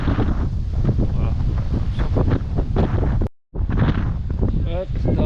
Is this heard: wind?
yes